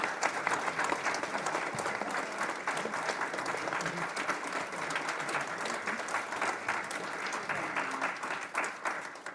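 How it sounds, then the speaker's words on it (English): Sustained audience applause at the close of a political candidates' forum held by a college club, a dense steady patter of many hands lasting throughout at moderate, even loudness. "a big round of applause for their answers"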